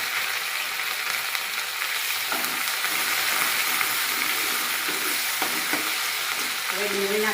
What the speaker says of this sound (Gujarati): પછી લીલું લસણ નાખીશું હિંગ નાખીશું આદુ મરચાંની પેસ્ટ કરી પીસે એડ કરીશું